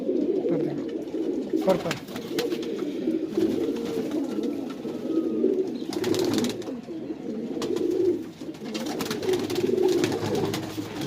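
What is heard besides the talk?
Madrasi pigeons cooing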